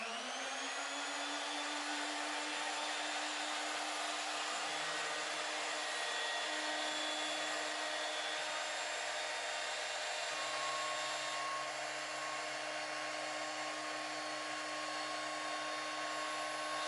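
A flexible shaft rotary tool with a 1.5-inch cutting wheel cuts brass inlay stock, a loud continuous high-pitched whine with shifting pitch as the wheel loads and unloads, close and steady throughout, with no talking.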